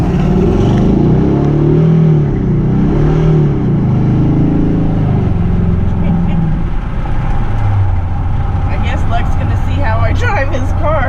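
A Chevrolet Camaro SS engine drones and revs as the car is driven, a loud, steady low rumble with rising and falling pitch, while people talk over it toward the end.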